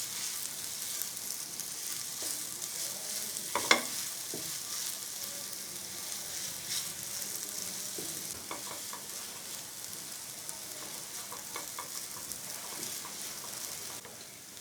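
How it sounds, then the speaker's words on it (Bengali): Semolina halwa fries and is stirred steadily in a pan over low heat, with a soft continuous sizzle, scraping strokes and one brief louder clink, no voices. "এই হালুয়াটা কিন্তু খুব ঘন ঘন নাড়তে হয়"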